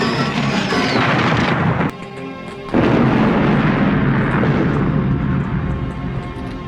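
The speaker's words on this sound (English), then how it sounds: "eventually it explodes and it looks like fireworks" A loud, rumbling, booming blast roars with the fireworks-like explosion of an alien mutant frog in an oven in a horror comedy film, briefly dropping to a dull hum before a second heavy burst rolls on and fades.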